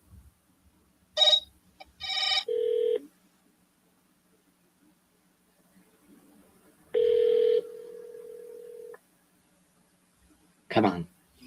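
Outgoing telephone call with ringback tones: a steady tone burst near the middle of the stretch and another shorter one earlier, separated by silence, with brief beeps and clicks around them.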